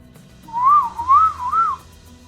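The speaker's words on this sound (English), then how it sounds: "I can whistle, I just can't whistle good." A person whistles a wavering tune alone, close and clear, with the pitch rising and falling over about a second and a half before it stops.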